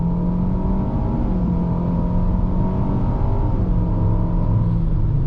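A 2021 Nissan Altima SR AWD accelerating, with a steady, loud engine drone and low rumble that holds evenly throughout, heard from inside the car with no talking.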